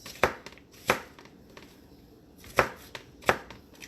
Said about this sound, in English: so we're just finishing up our apple cutting here into fine pieces